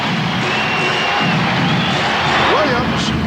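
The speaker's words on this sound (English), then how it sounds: "And the crowd trying to get the Blazers back into it." A basketball arena crowd at the 1992 NBA Finals between Portland and Chicago cheers for the Blazers, a broad steady roar with whistles rising over it, heard under continuous commentary.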